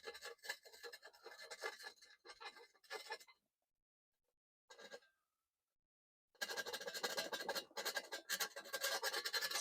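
Wire brush scratching orange rust bubbles off Saab 900 Turbo 16S Aero metal, in two bursts of dense, close rasping separated by a short pause and a brief scrape.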